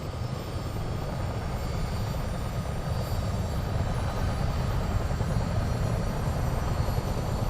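Aircraft engines spool up in Microsoft Flight Simulator 2024, a loud, steady propeller drone with a broad roar and faint high whine that holds without a break, with no talk.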